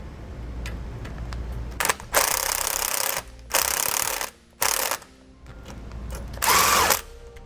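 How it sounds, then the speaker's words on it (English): Ratchet and socket tightening the U-bolts on a Roadmaster Reflex steering stabilizer bracket on a 1993 Spartan EC2 chassis, four or five separate bursts of ratcheting clicks, each about a second long, with quiet pauses between. "we're going to tighten down our U-bolts with a 9/16 socket"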